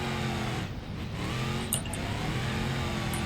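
Pickup truck engine in the BeamNG.drive video game during a drift, a steady mid-pitched motor drone held at moderate level throughout, with a brief faint squeak partway through and no talk.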